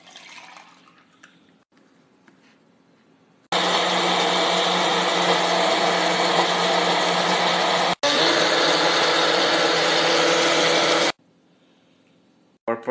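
A blender whirs loudly and steadily for several seconds while blending frozen mashed fruit with milk into a milkshake, pausing briefly once before resuming, then cutting off to near quiet.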